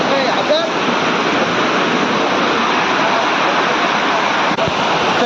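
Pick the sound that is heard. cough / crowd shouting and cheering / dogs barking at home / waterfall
waterfall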